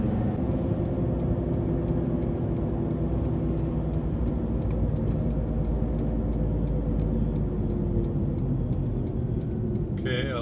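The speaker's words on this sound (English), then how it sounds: "I'll try to accelerate rather aggressively here and we'll see what it sounds like" A Subaru with a newly fitted stainless steel exhaust system accelerates aggressively toward 4,000 RPM, a loud steady engine and exhaust roar filling the whole stretch, with a regular ticking running over it.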